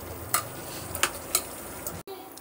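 Carrot halwa cooking in ghee gives off a steady sizzle and frying crackle, with a few scraping stirs of a spoon against the pan over the continuous hiss.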